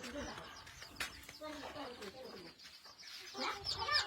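A hen clucking in a village backyard, a string of short, fairly faint clucks and calls mixed with other bird sounds, under casual talk nearby.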